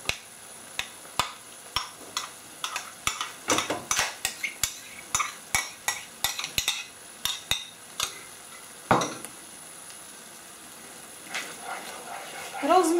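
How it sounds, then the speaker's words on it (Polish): A utensil stirs sour cream into a mushroom sauce in a pan, producing a string of sharp, close clicks and scrapes against the metal over a soft sizzle, thinning out toward the end. "Rozmieszam."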